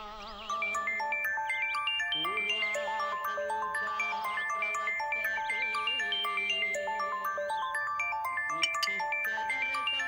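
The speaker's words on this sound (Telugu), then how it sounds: "ఫోన్ రింగ్ అవుతుంది" A phone rings in a house with a melodic electronic ringtone of bright repeating notes, loud and continuous, with no voices over it.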